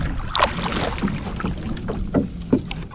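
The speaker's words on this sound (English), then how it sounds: "we decided to paddle across this narrow section of Crew Lake to check out a marshy area" Canoe paddles dip and pull through the water crossing a narrow section of Crow Lake toward a marshy area, a few soft irregular strokes and splashes close by over light wind.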